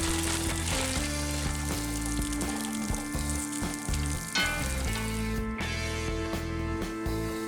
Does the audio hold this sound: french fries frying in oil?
yes